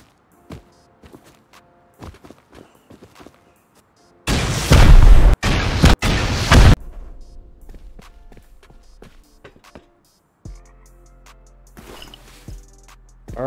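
Rockets explode in the video game Rust as a loud, booming burst of blasts in quick succession, with scattered game footsteps before and after.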